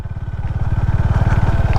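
A Honda Highness CB 350 motorcycle rolls slowly over potholes in second gear without the clutch, its single-cylinder engine thumping in a steady, close, loud pulse with light clatter from the bike.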